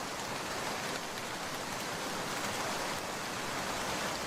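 Steady, dense rain pours down during a storm in a Bengali cartoon, a loud, even hiss of falling water with no breaks, running alone without any voices.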